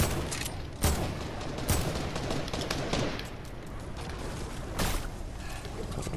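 Fortnite gunfire crackles through the whole stretch, dense bursts of automatic fire with a few sharper, louder shots standing out near and far, no talk over it.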